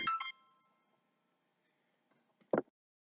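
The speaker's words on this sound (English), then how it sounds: "my phone is ringing" A mobile phone rings with a short burst of electronic tones, then goes quiet before a brief sharper blip, faint and close in an otherwise silent room.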